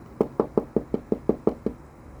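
Knocking on a door like police, about nine rapid even knocks in a quick steady rhythm, close and solid, with no talk over them.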